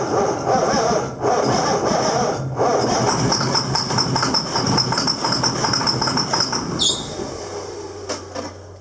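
An old tractor's diesel engine with a P-pump runs rough just after a cold start, spitting and sputtering in a dense, uneven chatter that is loud and close and continues steadily for several seconds.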